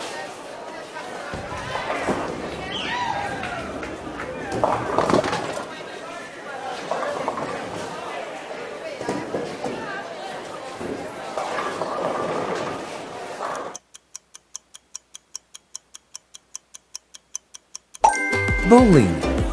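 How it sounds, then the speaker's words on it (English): Busy bowling alley ambience with crowd chatter, a ball rolling down the lane and crashing into pins, followed by a steady mechanical ticking like a countdown clock. "Bowling."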